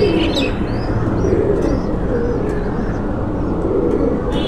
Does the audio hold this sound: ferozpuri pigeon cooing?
yes